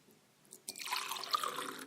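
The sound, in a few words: wine being poured into a glass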